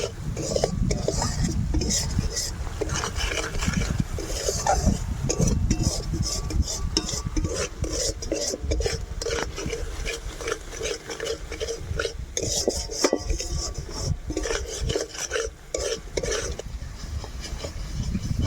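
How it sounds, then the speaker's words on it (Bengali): Spice masala for a spicy crab curry being stirred and fried in a pan with turmeric and salt, steady scraping and rasping of a spoon against the pan throughout, close and continuous with a faint sizzle underneath. "এখন ভালো করে মশলাটাকে ভাজা ভাজা করে নেব।"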